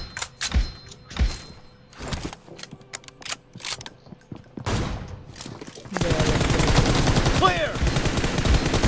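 Gunfire in a mobile battle royale shooter, a few sharp separate shots early on, then a sustained dense burst of rapid fire with mechanical clatter to the end.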